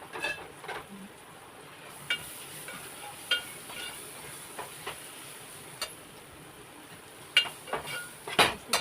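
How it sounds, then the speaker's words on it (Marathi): Spices including turmeric and garam masala fry in oil for a Maharashtrian prawn curry, giving a faint, low sizzle under sparse spoon clinks and scrapes against the pan, which grow a little busier near the end, with no talking. "आता सर्व मसाले तेलामध्ये फ्राय करून घ्यायचे"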